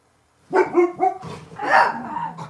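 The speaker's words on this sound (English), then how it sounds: "Those are my dogs." Several dogs bark indoors in a quick run of loud, close barks and yips. A longer, fuller bark follows, and a small whimpering tail trails off at the end.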